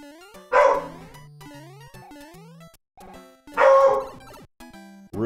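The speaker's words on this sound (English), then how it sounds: "Those damn dogs are barking." Dogs bark in a video game, Super Mario Bros 3 Mix, two loud sharp bursts of barking spaced a few seconds apart over chiptune-style game music.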